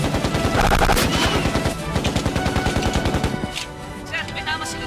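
Rapid automatic gunfire in a Tagalog action movie firefight, loud and sustained, with dense bursts of shots rattling in quick succession before easing slightly near the end.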